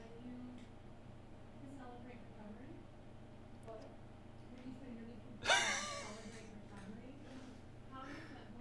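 One sudden sneeze bursts out during a quiet live show, a brief sharp loud blast that stands out against soft room hum and faint murmurs of people talking.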